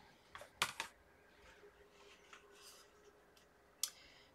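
Scissors snip through tulle in a quiet craft setting: a few sharp, close cuts early on, then a lone snip near the end, with faint handling noise between them.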